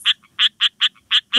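An Australian frog gives a recorded duck-like call: six sharp, loud nasal quacks in a quick, fairly even rhythm with brief quiet gaps between them.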